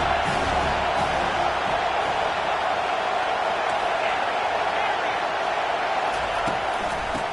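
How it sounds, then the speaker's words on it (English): Dense stadium crowd roaring and cheering steadily throughout at a college football game between Penn State and FIU, a loud, continuous wash of voices with no break. "This crowd rising up, sensing that its defense needs some help."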